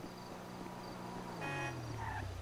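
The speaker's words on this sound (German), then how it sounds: "Ja, nix hupen." A car horn honks in the driving game GTA V, a steady mid-pitched toot rising out of engine and traffic noise for about a second near the end, fairly quiet and alone without talk.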